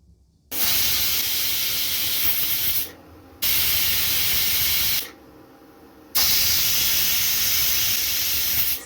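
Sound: pressure cooker whistling while cooking chickpeas

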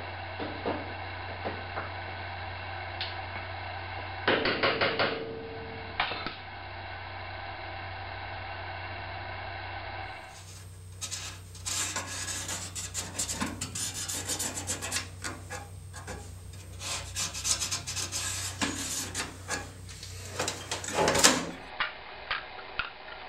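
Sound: fitting outer sheet metal piece into door pillar

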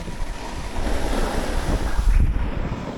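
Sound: snowboard scraping on hard ski slope

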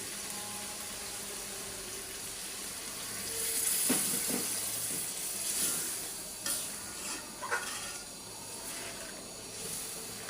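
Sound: hot water poured onto frying chicken, sizzling

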